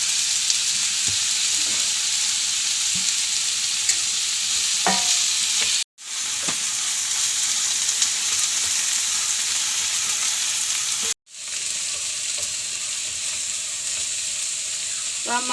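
Onion, ginger, garlic, curry leaves and green chillies fry in oil for an egg roast, with a loud, continuous hiss and sizzle broken twice by brief silences and a few faint stirring clinks.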